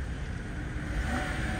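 A 2017 Skoda Octavia with a 1.6 engine and automatic gearbox idles steadily, giving a low, even rumble with faint wind-like hiss and no talking.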